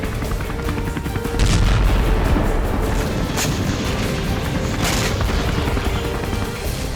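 Heavy booming blasts and rumbling from Israeli missile strikes at night on Damascus international airport in Syria, loud and continuous with several sharper bursts over a dense roar.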